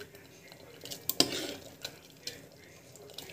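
Spoon stirring gravy in a cooking pot, with faint, irregular scrapes and a few light metallic clinks, one louder knock near the start, heard close and quiet with no talking.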